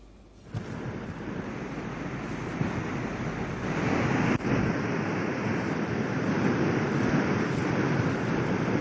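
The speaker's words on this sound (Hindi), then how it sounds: "चिनाब यहां पर भी काफी तेजी के साथ बह रही है" The Chenab river in flood at Ramban near Jammu, water rushing fast: a steady, loud broadband roar that swells slightly and continues without pause, with no voices.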